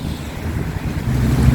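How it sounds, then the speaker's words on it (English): Strong wind buffeting the microphone on the Rosehall main road in Montego Bay, Jamaica, a dense low rumble with gusty swells that grow louder toward the end, no voices. "it's hella windy where I am"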